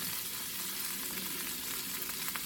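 Vegetables stir-fry in a hot pan, a steady, close sizzle and crackle with light stirring scrapes throughout and no talking.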